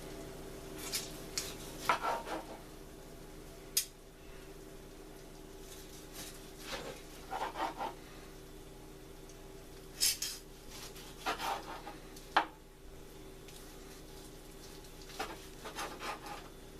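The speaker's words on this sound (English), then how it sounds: "And I'm going to cut the pork roast into slices." A knife slicing through a slow-cooked crock pot pork roast, heard as faint, intermittent scrapes and soft taps against the board in a quiet kitchen, with no talking.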